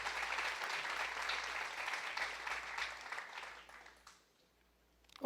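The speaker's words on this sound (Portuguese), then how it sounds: "Vale um aplauso a Jesus, aleluia?" Church congregation applauding during a worship service, a dense steady wash of hand clapping filling the room for about four seconds before tapering off into near quiet.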